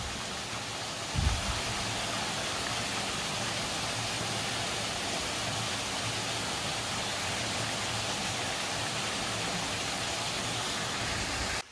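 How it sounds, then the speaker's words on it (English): A small waterfall on a Blue Mountains walking trail in Australia rushes steadily nearby, a constant broadband splash and hiss with no breaks, a brief low thump near the start. "The sound of a small waterfall."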